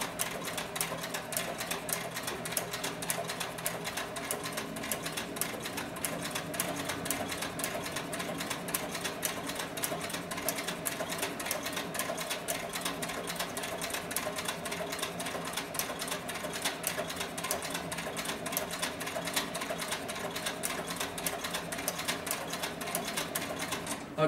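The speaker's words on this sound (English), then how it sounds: "you'll see that the speed of the sewing machine can pick up" A Cowboy CB4500 leather sewing machine runs continuously at a fast, even rhythm, its rapid mechanical stitching steady and close throughout.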